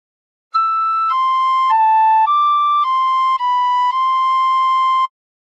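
A tin whistle plays a phrase of God Defend New Zealand, a clear, bright, loud run of sustained steady notes stepping up and down in pitch, with no other sound.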